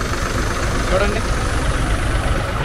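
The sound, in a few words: dewatering motor engine running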